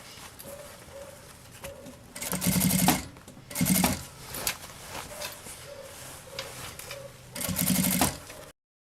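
A sewing machine runs in several short, loud bursts of rapid stitching, sewing the bias binding finish on a travel vanity case, with quieter pauses and handling sounds between the bursts.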